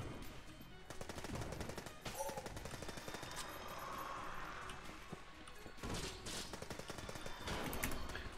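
Rapid machine pistol fire from the video game Enter the Gungeon crackles in dense bursts with short gaps, loud and close, mixed with in-game impacts.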